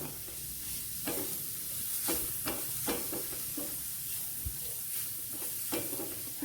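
Spice paste for spinach thoran sautéing in a pan, a steady soft sizzle with repeated scraping stirs at an irregular rhythm, close and moderately quiet, no talking.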